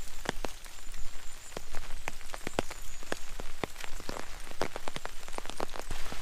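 Steady rain falls on a mountain hiking trail, with a dense hiss of drops and many distinct close taps of raindrops striking surfaces, continuous throughout and without speech.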